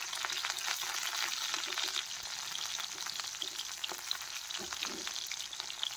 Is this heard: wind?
no